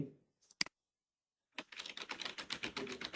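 Typing on a computer keyboard while entering text in Adobe Premiere Pro. A couple of isolated clicks are followed by a quiet pause, then a quick, steady run of close keystrokes.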